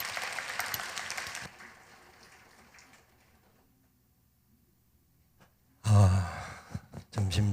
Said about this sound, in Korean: 우리 큰 박수로 우리 강사 목사님 환영하시겠습니다